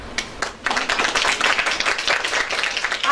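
An audience at a governing body meeting claps: a few scattered claps, a brief dip, then a dense, sustained round of applause close by.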